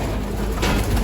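Pigeons cooing inside a loft, a soft, steady burble of several birds close by that continues for the whole second with no talk.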